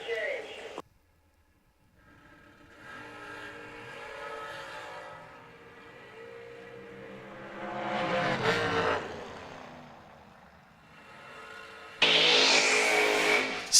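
A door car makes a drag racing run at a drag strip, its engine roar building from the distance and peaking loud before fading, with an announcer's voice over parts of it.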